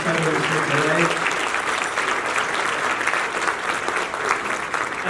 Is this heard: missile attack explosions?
no